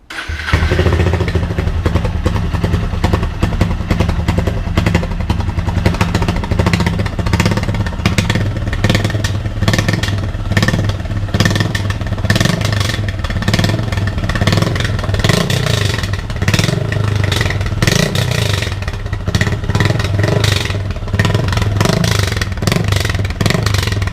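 A motorcycle fitted with a modified GP-style exhaust starts up and revs, a loud close engine rumble with repeated throttle blips and surging revs held for over twenty seconds, no speech.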